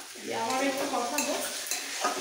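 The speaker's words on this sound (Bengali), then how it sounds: "আবার একটু কষাবো।" Cauliflower and potato curry with yogurt being stir-fried in a pan: steady sizzling with scraping and stirring strokes of a utensil, up close, and a faint voice under it.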